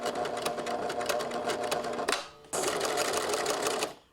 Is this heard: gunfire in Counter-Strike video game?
no